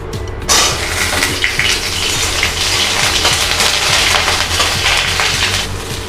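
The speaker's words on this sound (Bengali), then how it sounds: "ফুলকপিগুলো ভেজে নিচ্ছি।" Cauliflower florets frying in a pan for khichdi, a steady dense crackle running throughout at close range with no talking.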